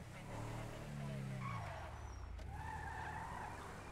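Car tires skid and squeal in a driving video game, a loud sustained screech that sweeps downward and then tails off into a lighter, fluttering squeal over steady engine noise.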